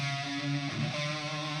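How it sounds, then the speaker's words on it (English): A distorted metal guitar track from a metal cover in music production plays alone, with dense sustained chords and a brief shift in the middle, steady and moderately loud without talk. "So the guitars sound like this."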